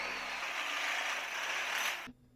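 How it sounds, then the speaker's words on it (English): In a workshop building rock sliders, a metal stop is clamped on with a sustained ratcheting, grinding mechanical rasp that runs for about two seconds, then stops abruptly, leaving quiet room noise. "now I can clamp that on and I can locate all these for the cut"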